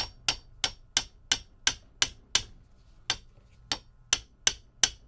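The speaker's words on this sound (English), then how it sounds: "used the wrong kind of hammer, had this little impact tool" A small impact tool hammers on a stuck Blademaster diamond fitting on a skate sharpener, giving about fourteen sharp metallic taps in an uneven rhythm, close and loud with brief ringing after each strike.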